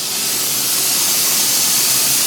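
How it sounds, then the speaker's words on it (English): The vent of a pressure canner spouts a steady stream of steam, making a loud, continuous broadband hiss at close range with no talking. "now my vent is beginning to spout a steady stream of steam."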